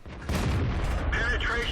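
World of Tanks game audio with a loud cannon boom from a tank destroyer that hits and penetrates an armored target, the blast starting sharply and then ringing out, mixed with a brief game voice announcement.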